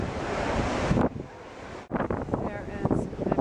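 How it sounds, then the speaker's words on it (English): Strong wind buffets the microphone in loud roaring gusts in Paris, briefly dropping off, with a voice speaking underneath. "it's super windy today."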